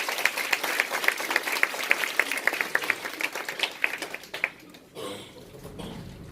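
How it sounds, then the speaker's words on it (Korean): An audience at a success-story talk claps in a quick, distinct rhythm, then breaks into looser applause that fades out near the end. "우리 두 분께 감사의 박수 한번 쳐주세요."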